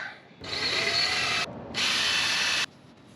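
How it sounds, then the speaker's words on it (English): A power drill with a chamfer bit whirs steadily in two bursts of high-pitched grinding, pausing briefly between them, close up and with no talking, while boatyard keel or rudder repair work is under way. "I've got this little chamfer drill bit that I'm going to use."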